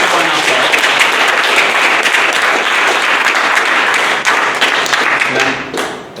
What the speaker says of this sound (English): let's have a big round of applause for all each one of us